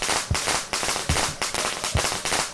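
Thrown firecrackers go off in the horror game Shadow Corridor, rapid, loud crackling bursts with a few heavier thumps spaced through a short string.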